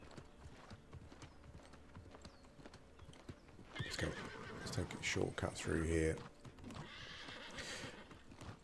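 A horse clip-clopping and neighing in the New World Aeternum video game, steady hoofbeats under a voice with a loud whinny in the middle, close and clear.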